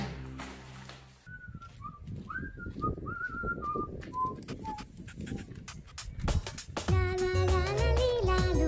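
A person whistles a short wavering melody of several bright notes, fairly faint and unaccompanied by talk, followed by a burst of louder music and clatter at the end.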